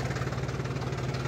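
A Sonalika tractor engine idles close by, giving a steady, even low throb with a fast regular pulse and no speech over it.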